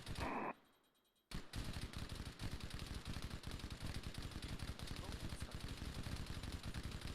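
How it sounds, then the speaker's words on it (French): Rapid automatic gunfire in the Halo video game as an enemy shoots at the player, a dense, relentless stream of loud shots that bursts in after a brief quiet lull and keeps going without a break. "Il me tire dessus maintenant, le petit bâtard."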